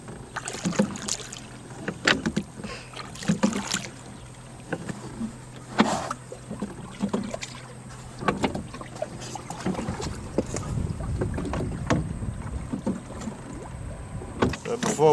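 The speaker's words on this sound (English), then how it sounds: "You can scull one hand and it's really simple, just a pin and a link." Hand sculling of a small proa sailing boat in light winds, with irregular water sloshes, creaks and paddle knocks close by, and a steady low hum and occasional talk underneath.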